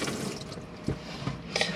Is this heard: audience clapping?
no